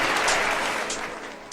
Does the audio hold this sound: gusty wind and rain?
no